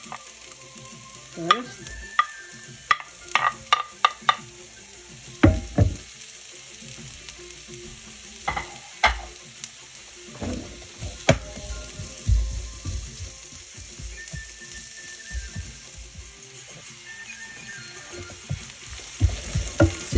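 Crushed onion frying in a pan for a homemade vegetable scramble, a steady low crackle punctuated by sharp clicks and scrapes of a utensil against the pan, fairly close, with no talk.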